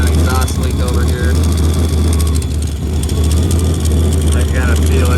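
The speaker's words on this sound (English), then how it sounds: "Feels like I got an exhaust leak over here." Engine running with an exhaust leak at the V-band clamp, on a vehicle just fitted with new spark plugs and an SVE radiator; a steady, loud, close low drone with a faint raspy hiss across the whole stretch.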